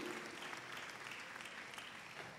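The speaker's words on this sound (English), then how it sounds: "They were clapping for you from that side." A church congregation claps together in a sustained round of applause at a steady, moderate level, with faint voices mixed in.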